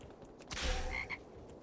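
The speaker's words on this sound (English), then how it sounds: "I heard a frog noise" A frog croaks once in World of Warcraft's snowy Dun Morogh dwarf starting zone, a short, fairly loud game croak with no talk over it.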